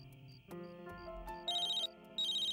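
A phone ringtone plays in a domestic film scene, a repeating electronic melody chirping in bursts over background music, fairly close and clear.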